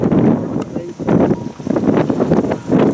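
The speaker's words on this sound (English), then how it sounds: "You can hear how windy it is out here." Strong wind buffets the microphone in heavy gusts outdoors, with speech-like sounds mixed in.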